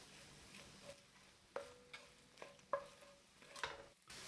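Minced garlic and shallots cooking in a pan give a soft, quiet sizzle, with a few light clinks and scrapes as they are stirred.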